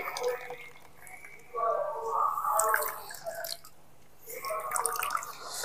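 Freshly ground raw coconut is squeezed hard by hand to press out thick coconut milk, making faint wet squelches and drips in a few separate bursts.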